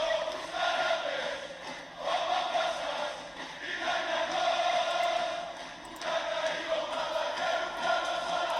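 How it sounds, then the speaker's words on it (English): A crowd at a Vipers vs. Bolts sports game keeps up a continuous, fairly loud roar of cheering and voices, swelling and dipping briefly between surges. "This crowd is rapid and ready to go."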